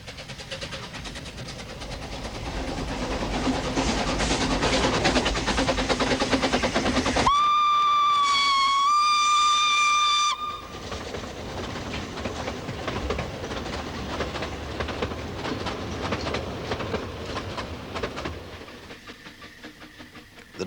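A Fairlie steam locomotive on the Festiniog narrow gauge railway rumbles and clatters along the track, with a loud steady whistle blast in the middle. The rolling train noise carries on after the whistle stops.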